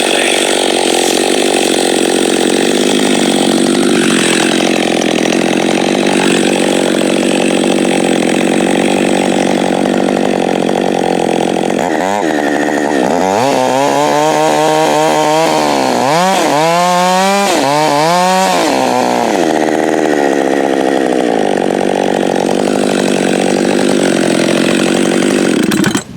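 A chainsaw with a 24-inch bar runs loudly and continuously, its engine revving up and down in bursts as it bites into ash wood while felling a tree.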